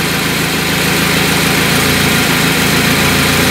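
A carbureted car engine running on LPG idles steadily at close range while its revs are adjusted with a brass screw, giving a loud continuous rumble with a slight vibrating buzz and no speech.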